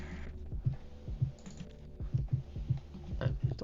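Steady clatter of typing on a computer keyboard during a coding session, with irregular bursts of close key clicks and brief pauses between words, no talk over it.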